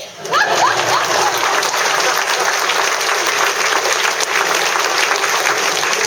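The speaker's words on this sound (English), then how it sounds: "it's okay, you can applaud" An audience at a political speech breaks into loud, dense applause that starts abruptly and holds steady, a crowd clapping close and full with no voice on top.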